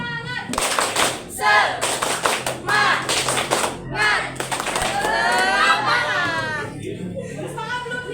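Classroom children perform the tepuk semangat clapping chant: sharp group claps land in a quick rhythmic pattern, then the kids shout the chant loudly in unison.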